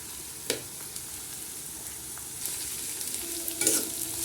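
Onions frying in a pan with a steady broadband sizzle throughout, joined by a few soft clinks and scrapes of stirring, with no one talking.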